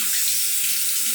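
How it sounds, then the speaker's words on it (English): A razor blade rinsed under a running bathroom tap: a steady, close hiss of flowing water from start to end, with no voices. "And you rinse out real quick."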